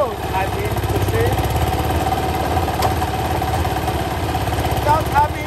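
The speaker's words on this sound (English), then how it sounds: "it has enabled the operator there to start the engine without having to unload" A FINIC palm fruit digester's engine runs at a steady idle, a continuous close mechanical drone with a rough vibrating rumble and no break for the whole stretch. A voice speaks over it.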